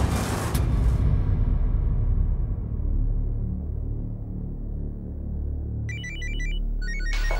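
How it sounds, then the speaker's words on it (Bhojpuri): A telephone ringtone chirps in quick repeated bursts near the end, cutting over a steady low rumble. "केकर फोन आ गए?"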